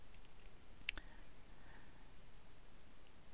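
A single sharp mouse click at about 0.9 seconds, crisp and close, with a faint follow-up tick after it, set against low steady background hiss and no talking.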